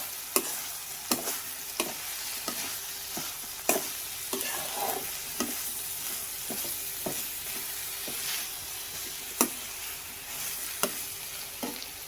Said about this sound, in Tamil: இப்போது நல்லா கிண்டி விட்டுக்கலாம்.